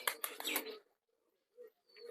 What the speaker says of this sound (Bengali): এখানে কিছু পায়রা মাটি খাচ্ছে, কিছু পায়রা ঘরের ভেতরে চলে গেছে